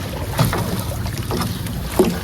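A small fishing boat (bangka) is pushed and paddled through water, giving soft splashes and knocks against a continuous wash of wind and water noise, with no talk.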